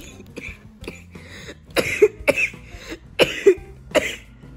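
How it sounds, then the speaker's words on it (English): A series of hoarse coughs, about half a dozen, some in quick pairs, close and fairly loud with no talking. "Sorry, I have a cough."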